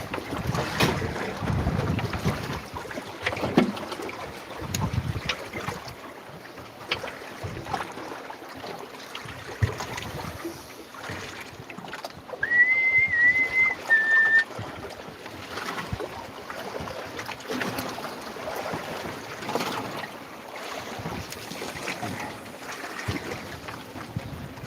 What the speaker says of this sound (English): Hopefully this wind does die down.